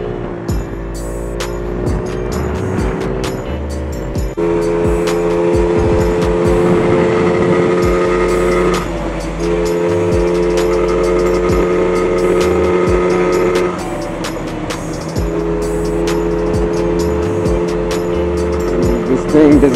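A Bintelli Breeze 50cc scooter with worn, bad rollers drones steadily while riding, its engine note holding and shifting in pitch with a coarse, strained buzz and wind noise throughout.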